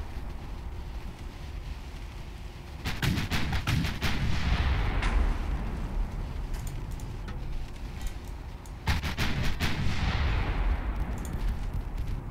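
Warship guns boom in the Ultimate Admiral Dreadnoughts naval battle game, two heavy salvos of rapid layered blasts rolling out over constant wind and sea ambience.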